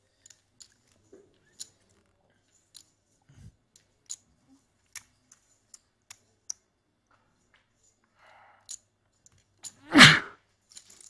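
A single loud sneeze near the end, heard at a live high-stakes poker final table, following a stretch of scattered chip clicks and small taps in an otherwise quiet room.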